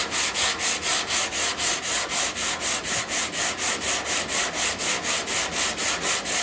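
Block sanding the tailgate of a Chevrolet C10 by hand, steady rhythmic back-and-forth strokes of abrasive on paint or primer, about three per second, close and loud with no voices.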